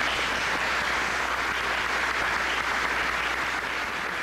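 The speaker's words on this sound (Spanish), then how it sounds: "pero muy fuerte aplauso" Sustained, loud applause from a church congregation at a parish anniversary celebration, a continuous wash of many hands clapping throughout.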